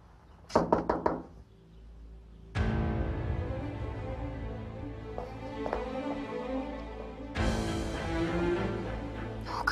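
Several sharp knocks rap on a door in quick bursts early on, followed by a sustained loud, tonal musical swell, and another burst of knocking near the end.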